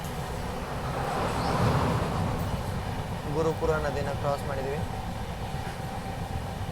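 Panchaganga Express passenger train rolling steadily from Bengaluru toward Goa while crossing the Gurupura river, a constant close rumble of wheels under someone speaking.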